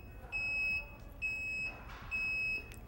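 A Cuisinart electric rotisserie oven timer signals that it has finished. Three evenly spaced, shrill electronic beeps sound close and clear over a faint background hum.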